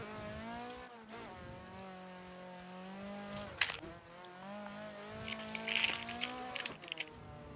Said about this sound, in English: I love the sound of like a proper raspy SR